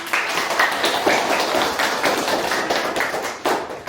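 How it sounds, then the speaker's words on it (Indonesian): A small group of listeners claps during a university teaching session, the claps close and somewhat uneven, forming a short burst of quick taps that holds steadily for a few seconds. "Oke, tepuk tangan"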